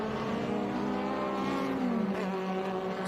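Vintage saloon race cars roar past on a circuit, a loud, steady engine drone with a pitch that shifts slightly as they pull through the corner, no voices over it.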